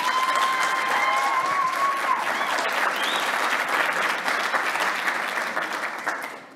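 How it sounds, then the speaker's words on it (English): A forum audience at an e-commerce event gives a dense, sustained round of applause after a panelist's remarks, loud and even before tapering off at the end, with faint tonal sounds in the background. "Round of applause for that."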